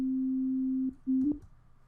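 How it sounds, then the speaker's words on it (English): A steady pure tone pitched at A3 sounds for just under a second, breaks off, then returns briefly before fading into quiet. "this beginning tone here before the musical excerpt is A3"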